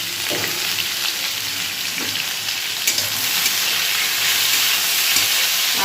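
Potatoes and eggplant fry in a pan with nigella seeds, salt and turmeric, giving a loud, continuous hissing sizzle up close that stays even from start to finish with only faint clicks and no speech.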